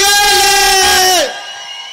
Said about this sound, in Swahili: vigelegele.